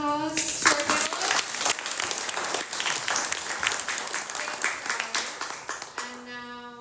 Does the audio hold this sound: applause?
yes